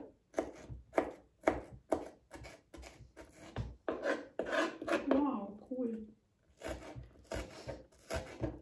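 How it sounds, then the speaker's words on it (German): A knife chops through an onion on a cutting board in a steady run of sharp, close knocks, pausing briefly midway before the rhythmic chopping resumes. "dass ich diese Zwiebel schneide"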